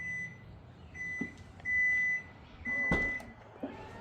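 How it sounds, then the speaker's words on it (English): A 2025 Hyundai Tucson hands-free lift gate sounds a series of thin electronic beeps, short ones then a longer tone, faint and close against quiet background. "when you get the beep"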